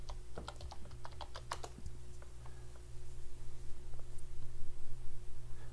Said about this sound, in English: we're going to have to put our password in.